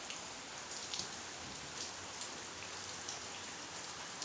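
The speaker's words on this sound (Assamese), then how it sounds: "আৰু বৰষুণটো ৰাতিপুৱা দি আছে" Steady morning rain falling and pattering on surfaces, a continuous soft hiss with scattered drops, no voices.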